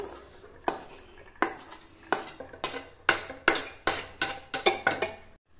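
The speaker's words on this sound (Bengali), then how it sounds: "এবার আমি প্রেসার কুকারের মধ্যে ডালটা দিয়ে দিচ্ছি।" Fried dal being scraped and tipped from a pan into a pressure cooker, heard as a run of repeated metallic clinks and scrapes of a utensil against cookware, steady and close with no talking.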